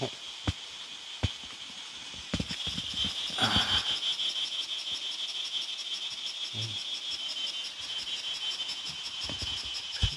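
Cicadas on a rural farm make a steady, shrill drone that runs unbroken throughout, slightly distant. Scattered light clicks and soft knocks sound over it, and no one speaks.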